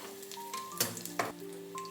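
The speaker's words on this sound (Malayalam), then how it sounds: "ഇനി കടുക് ഉലുവയും കൂടി നന്നായി ഒന്ന് മൂക്കട്ടെ" Mustard seeds and fenugreek fry in hot oil with a quiet, steady sizzle broken by a few sharp pops and crackles, close by and alone.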